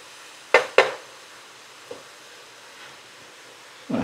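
Squished garlic cloves sauté in oil for a beef and pork chili, giving a soft, steady sizzle. Two sharp utensil knocks come early, a faint tap follows midway, and another clatter lands at the end. No one speaks.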